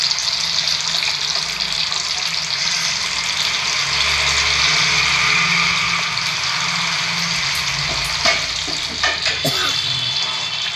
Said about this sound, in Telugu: కొత్తిమీర వేసుకొని ఇట్లా కలుపుకోవాలి